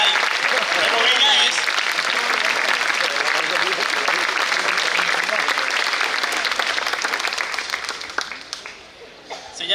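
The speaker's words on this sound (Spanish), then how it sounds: "ahora un fuerte aplauso a la chica más bella del mariachi" An audience at a mariachi performance applauds loudly and steadily for a female singer, a dense wash of clapping that holds for several seconds before thinning out at the end.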